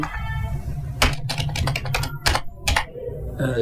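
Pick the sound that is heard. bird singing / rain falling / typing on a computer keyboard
typing on a computer keyboard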